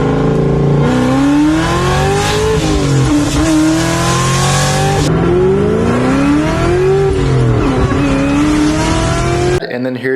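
Supercharged Whipple-blown, cammed Terminator car accelerating hard with a faulty boost bypass valve, a loud, continuous engine roar rising and falling in pitch through the gears, close and steady for ten seconds.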